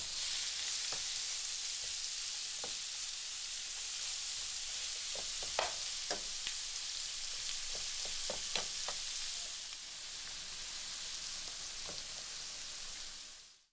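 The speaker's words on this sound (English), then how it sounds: "We're gonna introduce our shrimp to the same pan." Shrimp frying in a hot pan that still holds sausage drippings, giving a steady close sizzle and crackle with scattered pops and spits throughout, easing slightly near the end.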